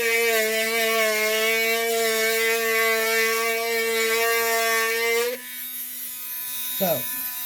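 A small Dremel rotary tool cuts into a glass light bulb, giving a steady high-pitched whine for about five seconds before it stops abruptly, followed by a faint brief voice.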